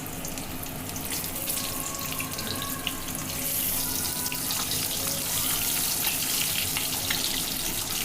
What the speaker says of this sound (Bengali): এভাবে আলু ডিম সব একসাথে আমি ফ্রাই করে নেব